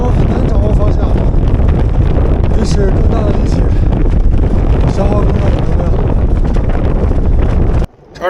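A strong gale roars while cycling on a heavily loaded bike in open grassland, loud continuous buffeting wind across the microphone that cuts off abruptly near the end.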